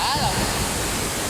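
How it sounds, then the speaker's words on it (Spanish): Broad, steady roar of a swollen river rising after heavy rain in the Ayabaca province of Piura, Peru, a continuous close rush of water with wind buffeting the microphone throughout. "Mire cómo va creciendo el río"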